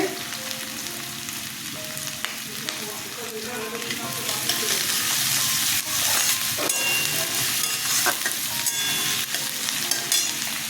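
Garlic, ginger and chopped chili fry in a pan for eggplant bharta, giving a continuous close sizzle with stirring scrapes and clinks, and the sizzle grows louder partway through.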